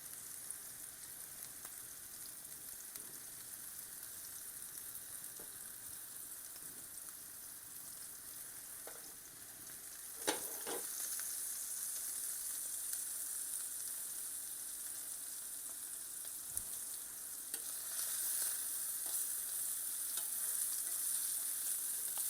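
Steaks for steak Diane sear and sizzle in a hot pan, a steady close hiss of frying fat that runs throughout, with a few brief clatters of the pan or utensils and no talk.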